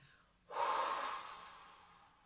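A single forceful exhalation through the mouth, a breathy whoosh starting half a second in that swells quickly and then trails off slowly, close and alone during a guided breathing session.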